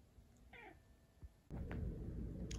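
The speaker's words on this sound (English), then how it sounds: "That was that kitty again." A cat gives a single short, clear meow, fairly quiet and close, followed by a louder low rumble of background noise.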